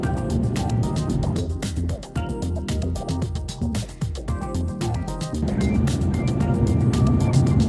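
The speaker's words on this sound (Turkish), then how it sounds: "Saatte 20-30 kilometre bir hızla ağır ağır seyir halinde gidebiliyoruz." A car drives slowly through heavy Istanbul traffic near Yenibosna at about 20 to 30 km/h, a steady loud road rumble with clicks and passing vehicle noise throughout, with no speech.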